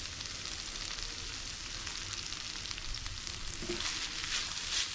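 Coconut stirred into a sizzling banana flower and drumstick leaf stir-fry, with steady close frying hiss and crackle throughout and faint scraping of the spoon, no voices.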